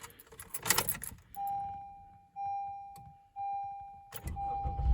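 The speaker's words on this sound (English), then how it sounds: "So let's go and start the car." A car turns over and the engine starts on the first try after a loss-of-power fix, with keys jangling at first, three short starter or chime bursts, and the engine catching near the end.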